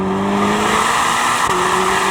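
Corvette ZR1 with a twin-turbo V8 pulling hard under full throttle, a loud, dense engine roar with rising tones and a brief shift-like dip midway, close and continuous with no talking.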